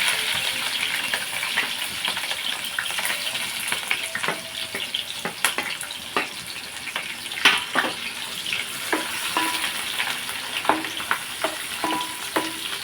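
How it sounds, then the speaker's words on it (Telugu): Onions and green chilies frying in a pan, a loud, constant crackling sizzle with frequent clattering stirs of a spoon against metal, up close and without speech. "వేగిన తర్వాత ఉల్లిపాయలు పచ్చిమిర్చి కూడా మనం వేసేస్తున్నాం"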